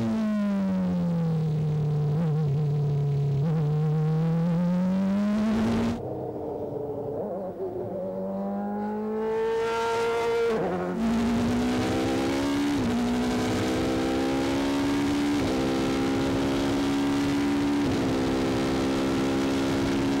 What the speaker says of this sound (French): Essayez d'aller à fond, monter les rapports jusqu'au dernier